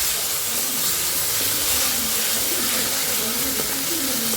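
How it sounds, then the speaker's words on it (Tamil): Ginger garlic paste sizzles steadily in hot oil while being sautéed for a chicken curry, a constant broadband hiss with no talk over it. "வாசனை போகிற வரையும் வதக்கிக்கலாம்."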